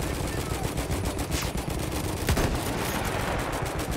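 Battlefield 1 campaign gunfire rattles in dense, continuous automatic bursts, loud and close, with no pause across the span.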